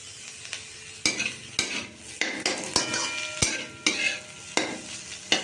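A utensil stirs and scrapes a frying egg omelette with ginger and green chilli in a pan, giving regular sharp metallic clacks about every half second over a soft, steady sizzle, with no talking.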